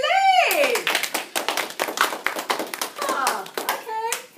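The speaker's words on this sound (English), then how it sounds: "Hey class, applaudissez-les!" A class of students in a French lesson clapping, a quick run of sharp, uneven handclaps close by, with children's voices calling out at the start and end.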